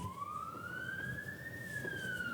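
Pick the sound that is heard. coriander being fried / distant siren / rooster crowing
distant siren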